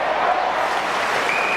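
A packed stadium crowd roars at the GABBA during an Australian football match between Brisbane and the Swans, a dense and continuous wash of cheering heard at a distance with no clear voices.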